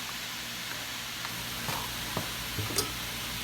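A pound of mushrooms hiss and sizzle steadily in a pan as they are stirred, a constant close frying wash broken by a few soft scrapes and clicks, with no speech.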